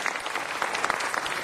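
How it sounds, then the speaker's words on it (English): An audience at a city council meeting applauds steadily, a dense, even patter of many hands clapping together at moderate distance. "I'd like to, if you would welcome me in applauding Richard Benbow"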